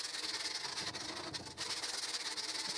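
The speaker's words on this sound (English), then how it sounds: "Then I gave the whole thing a good sanding down." A wooden log being sanded down for a cat tree gives a steady, close, raspy rubbing hiss with a brief dip midway.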